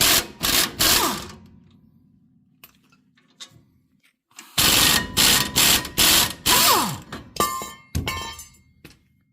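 Socket set ratchet working on a brake caliper mount of a 2012 Dodge Ram 1500: quick bursts of close mechanical clicking and metallic clinks, an opening cluster, a quiet pause, then a longer run of sharp repeated bursts.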